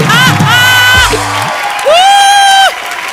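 A studio comedy show audience bursts into loud whoops and cheers, rising in two sustained waves of shouting with clapping beneath, close and energetic.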